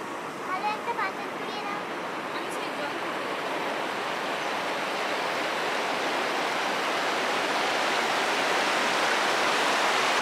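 Rushing river water at Dawki, Meghalaya, a steady, loud, broadband roar that fills the whole stretch and swells slightly toward the end, with a faint voice briefly audible near the start.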